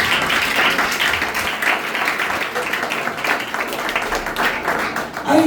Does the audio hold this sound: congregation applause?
yes